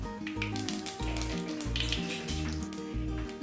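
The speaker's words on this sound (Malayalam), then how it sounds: "ചൂടായതിന് ശേഷം ഇതിലേക്ക് അര ടീസ്പൂൺ കടുക് ഒരു ടീസ്പൂൺ പെരിഞ്ചീരകം" Mustard seeds and fennel seeds hit hot oil for a Kerala-style mutton liver roast, giving a steady crackling sizzle beneath a stepped, rhythmic melody of background music.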